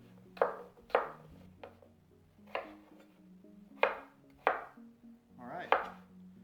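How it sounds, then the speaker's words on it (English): Potatoes are chopped on a cutting board into bite-sized pieces, with about seven crisp knife strikes in an uneven rhythm, close and clear over quiet kitchen hum. "We're just chopping into what you would consider nice bite-sized pieces."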